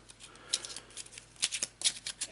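Playing cards shuffled and cut, a quick run of crisp riffling flicks and snaps in irregular bursts, close and fairly quiet, with no talking.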